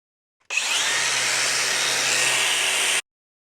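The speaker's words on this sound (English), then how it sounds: "just have a look if I can get the jigsaw in" A jigsaw cuts into a van's panel during a camper conversion, running as one continuous loud, steady buzz for about two and a half seconds and then stopping abruptly, with no talking.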